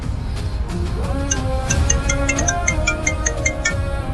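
A phone rings while a call is placed, a repeating series of short electronic tones starting after a second and continuing steadily over low background noise.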